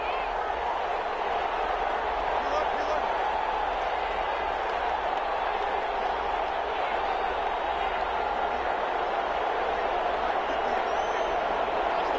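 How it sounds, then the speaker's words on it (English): A large video game stadium crowd at an American football game roars in a steady, dense wash of cheering and noise, sustained at an even level without a break. "Listen to this crowd now."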